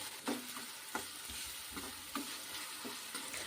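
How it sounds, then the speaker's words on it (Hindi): Onions lightly frying in oil for a dhaba-style sev tomato curry, soft steady sizzle with a spoon scraping and stirring the pan in several distinct strokes, close and moderately quiet. "प्याज को हल्का भुनेंगे, बहुत ज़्यादा नहीं भुनेंगे इसको।"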